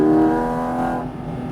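A Porsche GT4 RS engine on a race track, loud and close, with a strong harmonic engine tone that eases off and fades slightly over a brief moment.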